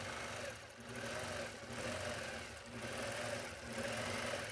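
A sewing machine runs steadily, stitching down appliqué on a snowman quilt, a close, continuous mechanical whir with a rapid needle rhythm that swells slightly in regular cycles, with no voices.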